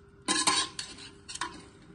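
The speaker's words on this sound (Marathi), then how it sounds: "आणि आता हे थोडंसं आपण मिक्स करून घेणार आहोत" A utensil scrapes and clinks against a pan while stirring a paneer chilli mixture with garlic paste, four or five sharp metallic strokes in quick succession, close and clear with no talk.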